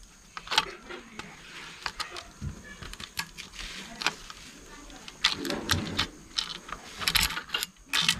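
An 8 mm socket wrench loosens bolts on a Honda Dio scooter engine, giving irregular close metallic clicks and ratcheting clatter under steady background hum, with someone talking now and then.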